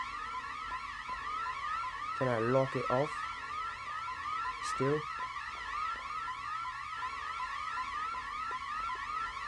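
A warbling, siren-like alarm sounds continuously after being set off in the video game Backrooms, a maze of endless offices, repeating steadily throughout with a few brief bursts of other game noises and a voice speaking over it.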